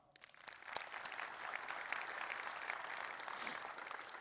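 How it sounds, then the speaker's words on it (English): Audience applause at a JavaScript tech conference talk, a steady wash of many hands clapping that swells in and holds evenly throughout at moderate level, with no voices over it. "Give it applause"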